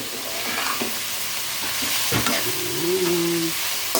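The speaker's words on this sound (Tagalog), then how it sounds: "Mix na natin ang luto natin. Mix ko muna siya." Vegetable lumpia filling fries in a pan with a steady, close sizzle while a utensil stirs and scrapes through it, and a brief tonal squeak rises near the end.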